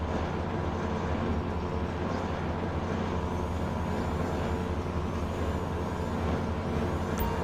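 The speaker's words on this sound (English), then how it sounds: "There's the truck." A heavy truck in the video game GTA 5 rumbles steadily at a container dock, with a constant low engine drone and faint hissing of air brakes over several seconds.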